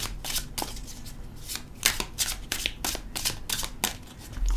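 Close, steady hand shuffling of a tarot card deck, with repeated papery riffles and soft slaps in quick succession and no voices.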